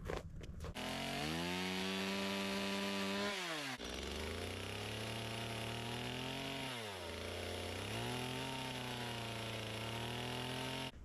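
Chainsaw cutting wood for owl and tree carvings, the engine revving loud and close with pitch dropping under load and rising again, briefly idling between cuts.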